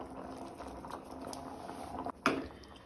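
Black peas curry bubbles softly in a pot as it is stirred, with gentle patters and a brief clunk of the spoon near the end.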